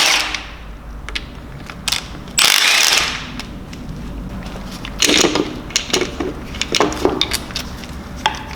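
Quick ratchet clicks and metallic tool handling while an oil pump comes off a BMW N57 diesel engine seized by spun bearings, with intermittent bursts of clicking and one louder scrape, close up and without talk.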